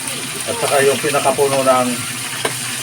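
Lemongrass, garlic and onion sizzle together in hot cooking oil, a steady frying hiss running beneath a voice as she talks.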